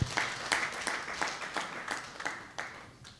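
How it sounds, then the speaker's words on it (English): A room of people at an alternative dispute resolution training in a hotel in Mbarara applauds themselves, a run of clapping with distinct sharp bursts rising and falling, moderately close and alone. "I think we deserve to clap for ourselves."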